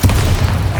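A Bombarda spell explosion in the video game Hogwarts Legacy lands as a deep, rumbling boom that swells at once and holds loud, heavy low-end energy through the short burst.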